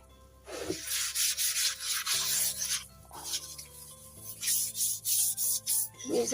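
Scrubbing a balcony floor by hand, a run of close, rough rubbing strokes that come in bursts with short pauses between them, with no talking.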